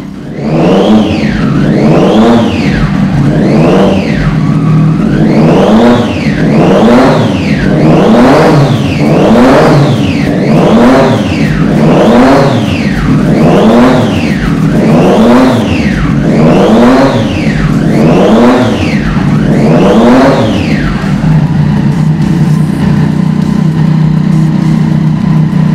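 Triumph Daytona 675R three-cylinder motorcycle, customised as a cafe racer, revved loud and close in a long series of about a dozen rhythmic throttle blips, then settling into a steady idle.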